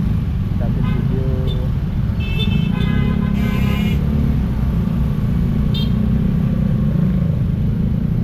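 Heavy morning traffic idles and crawls through the Batu Belik intersection in Kerobokan, Bali, with a dense low rumble of cars and motorcycles, several short horn toots and a person talking over the steady roar.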